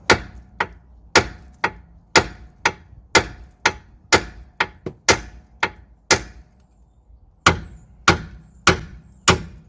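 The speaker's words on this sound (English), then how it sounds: "we're going to hit this area with a hammer, and that should free the track rod and pin" Repeated sharp metallic hammer blows on a Kia Soul track rod end, about fifteen strikes in a steady rhythm with a brief pause partway through, close and loud.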